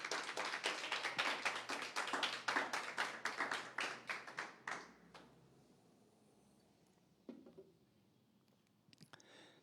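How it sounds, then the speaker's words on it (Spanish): Church congregation claps during a Spanish-language sermon: a group clapping in a fairly regular rhythm for about five seconds, then fading out to near silence with a few faint stray sounds. "démosle un aplauso al Señor Jesucristo"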